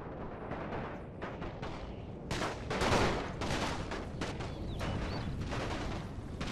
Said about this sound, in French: il leur tire encore dans le dos